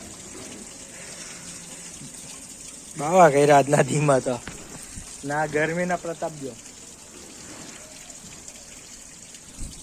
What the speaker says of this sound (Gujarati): પાણી ટાંકો ભરવા મળ્યો તો વાલ ફાટી ગયો આખો ટાંકો ખાલી કરીએ છીએ